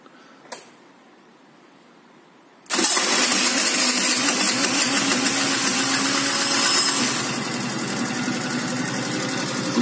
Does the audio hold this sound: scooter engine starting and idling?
yes